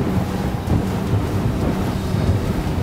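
A Rock 36 RIB boat runs at about 60 knots over low waves, with a loud, continuous roar of wind buffeting, hull slamming and water rush, and no talking.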